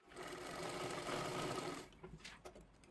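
A sewing machine stitches along the side of a fabric hair band in one steady close run of about two seconds, followed by a few soft handling knocks.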